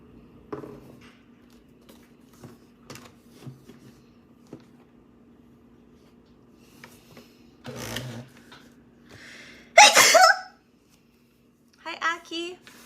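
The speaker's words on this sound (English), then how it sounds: "My sneezes are always so loud, man." A single loud sneeze bursts out close by from a person in a quiet room, sharp and brief, followed by a few short spoken sounds amid faint background hum.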